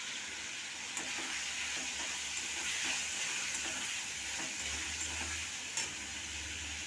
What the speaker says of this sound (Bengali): এইবার ভেজে রাখা ওলকপি আলুটাকে দিয়ে দেবো।